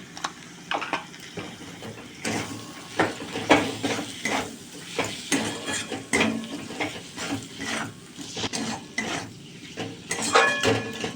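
Chicken pieces added to masala fried until the oil separates, then stirred in a pan: repeated metallic scrapes and clinks of a spoon against cookware in an uneven rhythm over a soft sizzle, close and clear.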